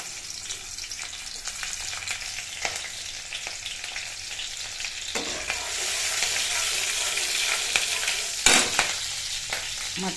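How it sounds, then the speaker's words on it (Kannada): Green chillies and onion fry in hot oil in a pan while dill-leaf bassaru is being made: a steady, close sizzle with scraping and stirring clatter, plus a sharp louder crackle near the end. "ಈಗ ಹಸಿಮೆಣಸಿನ್ಕಾಯಿ, ಈರುಳ್ಳಿ ಎಲ್ಲ ಹಾಕ್ಬಿಟ್ಟು ಫ್ರೈ ಮಾಡ್ತೀನಿ"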